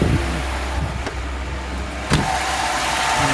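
A cold Lada Zhiguli with a carburetor engine idles on choke at a Moscow car market, a steady close mid-pitched chug with a couple of sharp clicks and no voices.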